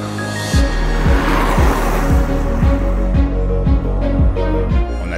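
A 2021 Mercedes S 400d diesel limousine accelerating up a mountain road, a loud, steady engine drone that rises through the gears, with a regular rhythmic pulsing running under it.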